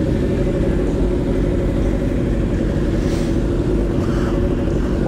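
A Yamaha R1 motorcycle with a dual exhaust idles at a Memorial Day ride-out, giving a loud, steady, close engine rumble that holds without change throughout.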